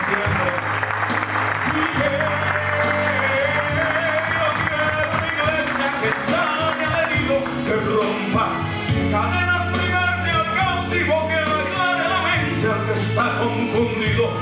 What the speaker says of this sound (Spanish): Denle un aplauso al que vive y reina para siempre.